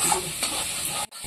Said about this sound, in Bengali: মশলাগুলো ভালো করে কষিয়ে নিচ্ছি।